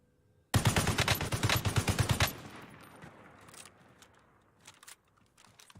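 Rapid automatic gunfire from the Call of Duty: Warzone video game, a loud dense burst of about two seconds of repeated shots, then fading into quieter scattered game noise and faint clicks.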